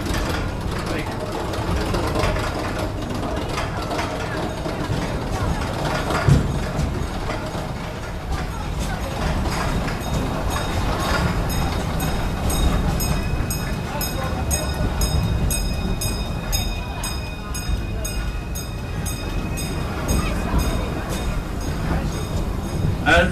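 Busch Gardens railway train rolling along in a continuous rumble and rattle of cars on track, steady throughout with occasional clanks, heard from on board.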